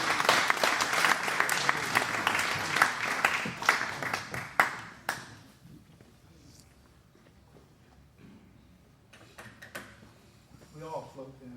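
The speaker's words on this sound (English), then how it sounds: "please give her a very warm round of applause" Audience applause for a singer at a Route 60 Saturday night show, a warm burst of clapping that fades out after about five seconds, leaving quiet room noise, faint scattered sounds and brief talk near the end.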